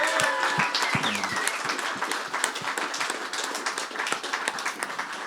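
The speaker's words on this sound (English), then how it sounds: "let's give y'all a nice round of applause" An audience at an album release show claps and cheers in a sustained round of applause, with scattered whoops and a few brief voices rising above the crowd.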